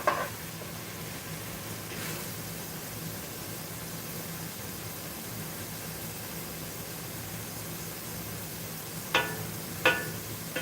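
Vegetables sweating down in a pot for chicken and dumplings, a soft steady sizzle running throughout, with a few brief sharp scrapes of stirring near the end.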